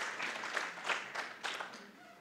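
Audience applause at an education technology forum, a short burst of scattered clapping at moderate distance that thins out toward the end, with a faint voice underneath.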